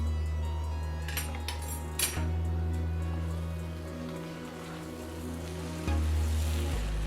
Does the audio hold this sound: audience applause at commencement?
no